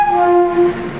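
The Howrah-Ranchi Shatabdi Express sounds a loud, steady train horn at Dhanbad Junction in winter, a sustained blast that fades out toward the end with no talk.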